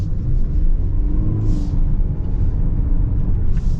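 A 2025 Toyota Prius XLE AWD hybrid accelerates with a close, heavy low rumble and a smooth rising powertrain drone. Faint brief hisses sit on top.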